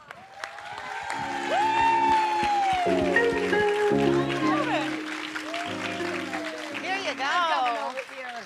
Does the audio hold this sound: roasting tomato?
no